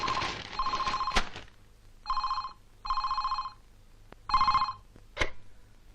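A telephone bell rings indoors in a home, sounding in repeated short trilling bursts with brief pauses between them, fairly close and clear, with a couple of sharp knocks in between.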